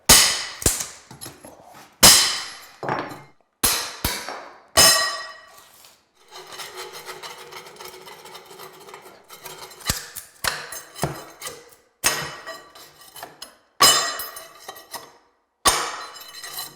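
Carpet tack strip being pried up from a floor: a series of sharp metallic snaps and clanks comes in irregular bursts, with a stretch of scraping and rattling in the middle, all close and alone.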